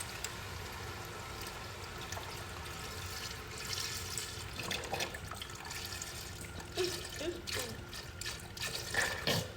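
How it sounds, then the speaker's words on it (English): Beef broth poured into a pot of browned chuck roast, a soft liquid splashing and trickling with faint sizzling, quiet and close, rising in places as the pour continues. "so now I'm just gonna add some beef broth"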